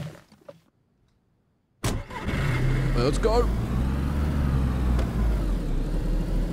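Car engine in the video game DayZ cranks and catches after near silence, then settles into a steady, loud running drone with the car driving off, voices talking over it.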